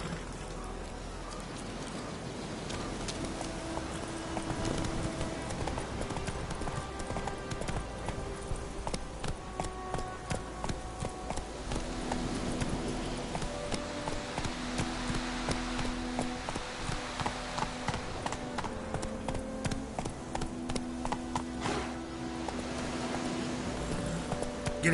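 Horse hooves clip-clop in steady rhythm during a game, with a continuous trotting patter under a soft rain-like background and occasional tonal music notes.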